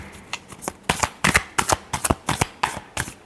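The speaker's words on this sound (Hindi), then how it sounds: "last shuffle" Tarot cards being shuffled in a series of about nine quick, crisp riffling bursts, close and fairly loud, with no voices over them.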